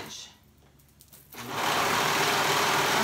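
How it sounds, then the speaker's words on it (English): A sewing machine stitches along a raw fabric edge while a wrap top is assembled, starting after a quiet moment and then running as a steady, close, continuous motor hum. "we're gonna go ahead and sew that raw edge"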